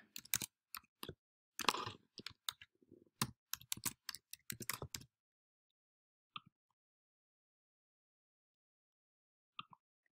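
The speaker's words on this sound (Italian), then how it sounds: "Digitiamo il nostro nome, cognome, e il proprio indirizzo email." Rapid typing on a computer keyboard while filling in an online sign-up form, a close burst of clustered key clicks for about five seconds, then near silence broken by two isolated taps.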